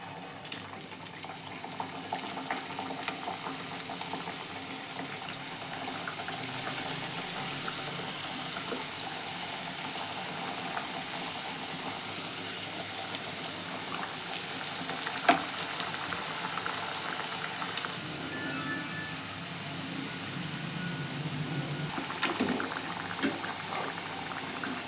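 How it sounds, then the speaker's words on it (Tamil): Vegetable puffs fry in hot oil, giving a steady bubbling sizzle that holds at an even, moderate level for about twenty-five seconds, close by and without talk. "இப்போ எண்ணெய் சூடு ஏறிச்சு. இப்போ பப்ஸ் எடுத்து இதில் சேர்த்துக்கலாம்."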